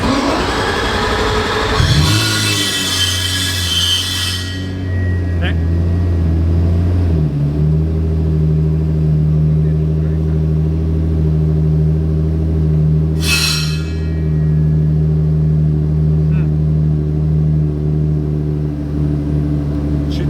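A race car engine is started in neutral with the clutch pressed, with a starter whine followed by a loud, steady, low idle rumble that runs close and continuous, with a couple of brief hissing bursts.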